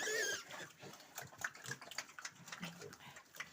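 Pigs feed with their mother in a cold farm pen, soft snuffling, chewing and wet slurping close up at low level, with a brief high squeal at the start.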